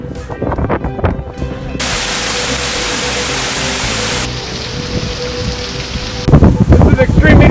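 Heavy rain pours steadily during a coastal storm with tidal flooding on the west side of the Charleston Peninsula, a loud broadband hiss with gusty, rumbling bursts at the start and end.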